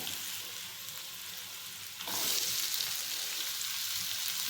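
Onion and capsicum sauté in a pan for a sweet corn gravy, a steady broadband sizzle that swells louder and brighter about halfway through as the capsicum goes in, with faint stirring and no talk.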